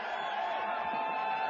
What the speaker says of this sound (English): Any guesses who they're cheering for?